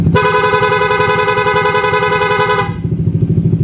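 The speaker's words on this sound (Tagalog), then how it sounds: "Todo bigay yung busina mga sir, kahit na kumukonsumo lahat." A Suzuki Raider fuel-injected motorcycle's loud electric horn blares continuously for over two seconds with a bright, buzzy tone over the running engine, then cuts off leaving the engine idling.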